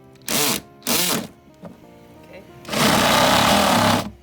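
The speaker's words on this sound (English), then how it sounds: "I could move on to drilling a hole in the bottom of the grow bed" A power drill bores a hole in the bottom of a backyard aquaponics grow bed, coming as two short loud whirring bursts and then one longer sustained run, with a brief spoken word between.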